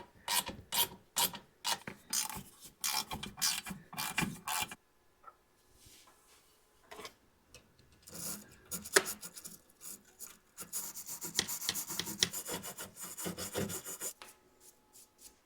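Floorboard bolts locked with Loctite on a 2020-or-later Can-Am Spyder RT being loosened: bursts of harsh rasping, creaking and ratcheting come close and loud, with quieter pauses between the spells of turning.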